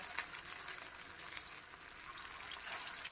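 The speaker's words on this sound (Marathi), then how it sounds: "एक एक ही टिक्की या तेलामध्ये ठेवून घ्यायची आहे।" Aloo tikki potato patties fry in hot oil in a pan on low heat, a continuous soft sizzle with scattered crackles and brief spits, close but fairly quiet.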